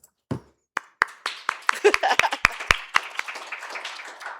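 Sparse applause from a symposium audience: a few scattered claps at first, then a thin round of clapping from several hands that carries on unevenly and fades, with no talk over it.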